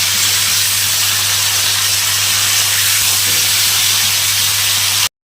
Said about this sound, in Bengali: ভালো মতো ভাজতে হবে ফুলকপিটা।